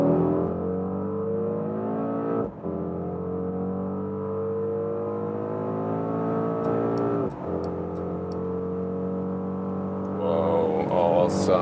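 Mercedes GLE 63 S AMG Coupé SUV driven at about 230 km/h through a high-speed corner on a German Autobahn: a steady, close engine drone with slowly rising harmonics and two brief dips, then a short burst of higher noise at the end.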